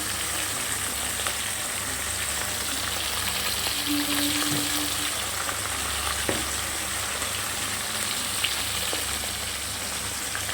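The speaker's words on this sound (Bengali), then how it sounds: "পমফ্রেট মাছটা হালকা ভেজে নেব, ভেজে তারপর রান্নাটা করবো।" Pomfret fish frying lightly in oil in a home kitchen, giving a steady, soft crackling sizzle that runs evenly throughout, close by and moderately loud, with no voices.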